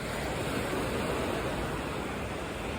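Ocean waves tumbling onto a beach of sand and rock, a continuous loud wash of surf with an even, unbroken roar and no voices.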